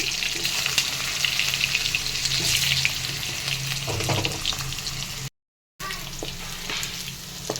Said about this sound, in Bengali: দেখো আলুটা একটু ভাজা ভাজা হওয়াতেই